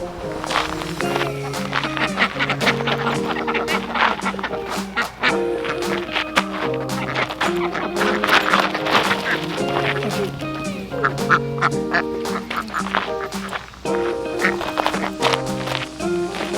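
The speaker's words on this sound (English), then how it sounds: "just get these ducks" A flock of ducks in a garden quacking loudly and almost without pause, harsh nasal calls overlapping at close range, with footsteps and occasional movement sounds mixed in.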